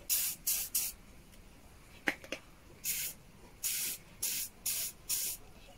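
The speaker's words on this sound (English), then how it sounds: "And I will just give it a bit of a spray all around" Short bursts from an aerosol can hiss in a quick irregular series, spraying vintage communist-era gas lamp parts all around, close and fairly quiet, with a couple of small clicks between sprays and no voices.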